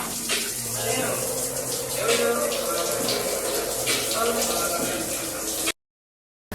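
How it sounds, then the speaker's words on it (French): Shower water pouring steadily as a dense hiss that runs nonstop for several seconds, close and loud, then cuts to silence. "je vais aller prendre ma douche"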